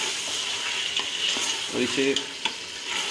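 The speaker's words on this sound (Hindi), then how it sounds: "गोश्त को अच्छी तरह भून रहे हैं" Chicken or mutton pieces frying and being stirred in a pan over medium heat for a cauliflower-and-meat curry, with steady sizzling and intermittent scraping stirs, close and continuous, with a few brief spoken words.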